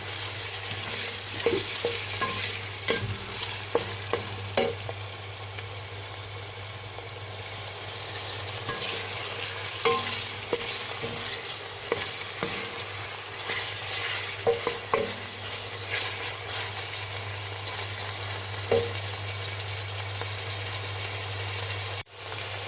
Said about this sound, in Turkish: Şöyle bir kavurayım arkadaşlarım e, etimi de.